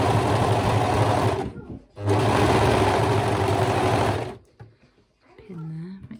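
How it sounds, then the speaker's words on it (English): An overlocker serges around the fabric edges of a cloth nappy, running in two loud, steady mechanical bursts separated by a brief pause before stopping, with a person speaking briefly afterward. "So I'm just going to serge all the way around."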